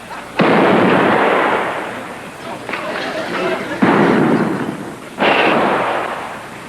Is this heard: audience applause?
no